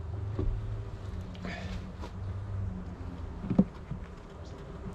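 Honeybees buzz steadily around an open hive during a spring inspection, a low continuous drone close by with a few faint knocks and taps from hive parts.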